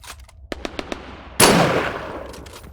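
Gunfire in the Arma 3 IFA3WarMod: a quick run of sharp single shots, then a single much louder, booming report that rings out and decays over the next second.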